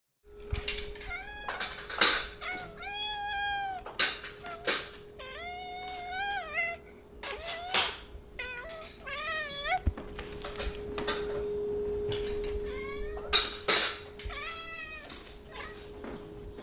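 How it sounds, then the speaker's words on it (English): A hungry cat meows repeatedly in plaintive, wavering cries while dishes and silverware clink and clatter nearby as they are put away, with a low steady hum underneath. "it sounds like a cat whimpering while dishes and silverware are being put away"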